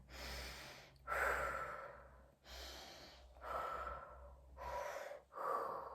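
Deep breathing during a fascial stretching exercise: slow, audible inhales and long exhales alternate in a steady rhythm, about six breaths close to the microphone, with no talking.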